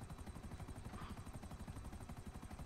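Helicopter in the video game Grand Theft Auto V, its rotor chopping in a steady, rapid pulse with continuous engine drone, faint and even throughout with no talk.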